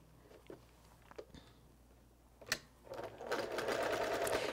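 Quiet handling clicks and taps give way to a sewing machine starting up and running steadily, stitching quilt block edges with a quarter-inch seam, loud and close.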